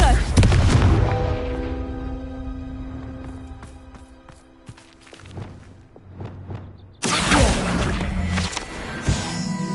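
A Confringo fire spell bursts in Hogwarts Legacy, with a loud opening boom followed by scattered crackling impacts and a second strong blast later. No one speaks.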